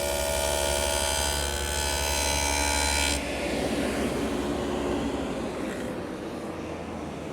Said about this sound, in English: I'm now able to use the dado to create a rabbet